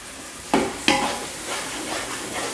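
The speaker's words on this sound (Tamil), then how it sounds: "ஸோ தக்காளியும் ஆட் பண்ணிவிட்டு நல்லா வதக்கிக்கலாம்." Chopped tomatoes sauté in a pan for Ambur-style mutton biryani, with two sharp stirring scrapes early on over a continuous close sizzle; no talk.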